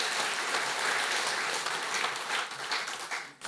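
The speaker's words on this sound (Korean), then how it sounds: "은혜로운 말씀을 전해주신 목사님께 감사의 박수를 드리겠습니다" Applause of thanks for a pastor at a men's mission prayer meeting in a church, a steady wash of clapping from a congregation that holds evenly and then thins out toward the end.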